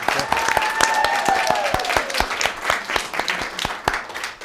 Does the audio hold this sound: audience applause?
yes